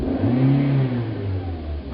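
A car engine revs as the accelerator is pressed, a loud, near growl that rises in pitch and then settles into a steadier drone over about two seconds, with no talk over it.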